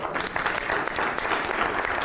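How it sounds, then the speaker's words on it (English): An audience applauds at a talk, steady dense clapping filling the room for a couple of seconds with no voices over it. "Round of applause for that, Rising Junior."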